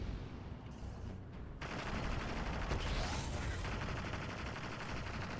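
Sniper shots and rapid gunfire in Destiny 2 during a solo K1 Crew Quarters Master Lost Sector, a continuous dense barrage of shots and impacts that swells louder after the opening and keeps rattling steadily, with no one speaking.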